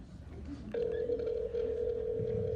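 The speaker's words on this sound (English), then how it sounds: "Come on, Charlie, answer the phone" A telephone ring tone sounds over a call, starting after a short quiet stretch and holding as a steady, continuous electronic tone at moderate level, with faint background voices.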